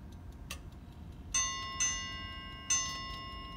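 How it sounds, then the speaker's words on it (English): A new Chelsea ship's bell clock strikes three bells for 9:30, the first two close together and the third after a short pause, each leaving a lingering metallic tone. "And that's at 9:30, the three bells."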